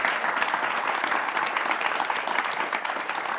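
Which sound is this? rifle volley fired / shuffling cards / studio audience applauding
studio audience applauding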